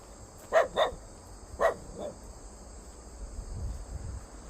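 A dog barks on a small rural farm plot, a few short barks close by in quick succession, then one more after a pause, over a steady background of insects and crickets.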